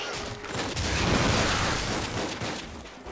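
A weapon fires in Lara Croft and the Guardian of Light, setting off a loud, dense burst of blast noise that swells and rolls on for about three seconds before easing slightly, with no voices over it.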